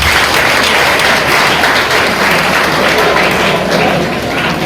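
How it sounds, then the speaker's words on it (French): Loud, dense applause from a large audience at a World Environment Day celebration in Isiro, a continuous roar of clapping that eases slightly near the end. "Applaudissons très fort"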